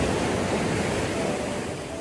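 Sea waves wash over a rocky shore on the Cantabrian coast, a steady close roar of surf and spray that eases slightly toward the end, with nothing else audible.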